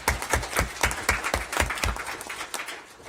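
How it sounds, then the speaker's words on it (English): A small group claps at a school district board meeting, a short run of distinct, fairly loose hand claps that thins out and fades toward the end. "So y'all can clap, yeah."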